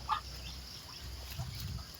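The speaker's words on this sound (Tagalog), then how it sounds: "Naging pato na po sila." Young ducks grown from hatched chicks make a short, fairly close quack near the start, followed by faint low calls and rustling with no speech.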